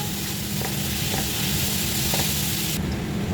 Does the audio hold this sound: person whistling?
no